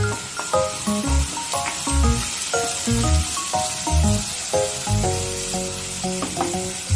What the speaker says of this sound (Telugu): అంత సాల్ట్ వేసేసుకొని ఆనియన్స్ ఫ్రై చేసేసుకుందాం